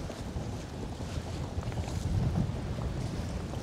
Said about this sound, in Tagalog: Parang ang lakas ng hangin